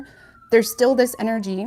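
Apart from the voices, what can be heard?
sirens passing outside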